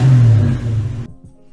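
A four-eye Ford Fox body Mustang engine runs loud and close, revving up and settling before cutting off sharply near the end, leaving only faint low rumble.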